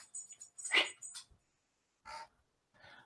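A dog whimpers and breathes in several short, thin whines close by, separated by brief silences in a quiet room.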